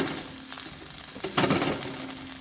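Chicken and canned mushrooms frying in a pan inside a hot tent, a steady soft sizzle with a brief louder burst of crackling midway, fairly quiet and close.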